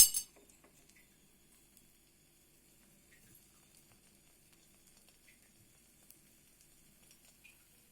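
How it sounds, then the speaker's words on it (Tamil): Coconut-filled sweet poli frying in ghee on a stovetop gives a faint, steady sizzle with occasional small crackles and a light clink of a utensil, louder for a moment at the start and then quiet, with no talking. "இப்போ அடுப்பில் நெய்யை ஊற்றி இதை போட்டாச்சுங்க."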